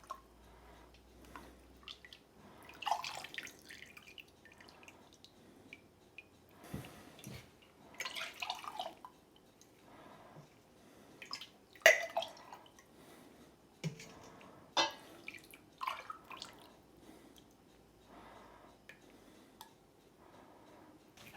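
Rendered beef tallow is ladled through a strainer in a kitchen, giving quiet scattered drips, liquid splashes and occasional clinks of a metal ladle against pots, faint and sparse over near silence.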